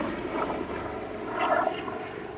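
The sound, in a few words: helicopter flying overhead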